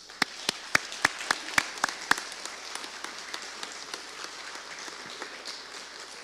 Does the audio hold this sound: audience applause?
yes